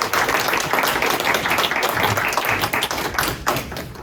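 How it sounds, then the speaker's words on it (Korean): An audience at a lecture on careers for electrical construction engineers gives steady, dense applause to welcome the speaker, heard close and unbroken throughout. "박수로 맞아주시면 감사하겠습니다."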